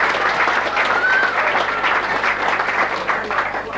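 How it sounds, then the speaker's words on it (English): A crowd at a 1985 Australian rules football club award night applauds a trophy winner, giving dense, continuous clapping with some cheering and voices mixed into the din. "A big round of applause."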